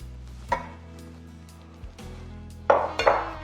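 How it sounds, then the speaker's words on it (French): A metal saucepan clanks and scrapes in a kitchen while fat is added for a US Army chili recipe, with a few sharp knocks and a ringing resonance between quieter moments. "vous prenez une casserole, vous mettez dedans le gras"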